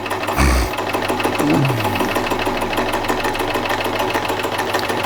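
A Privileg Ideal 750 sewing machine runs a straight stitch, its steady, even needle chatter carrying on close and loud for the whole stretch after a brief louder thump at the start.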